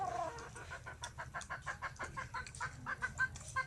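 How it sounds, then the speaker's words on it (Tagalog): Gamecock chickens cluck repeatedly in short, irregular bursts at a moderate distance, with faint background noise and no talking. "Yan mga manok. Pansabong."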